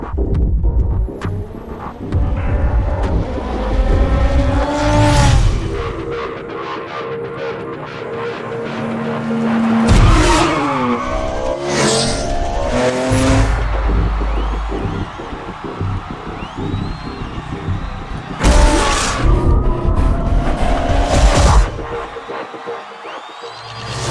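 Need for Speed Shift racing cars roar through a game trailer: loud, layered engine drones and throbbing revs swell and cut over a driving music bed, with sharp bursts and whooshes around the midpoint and near the end.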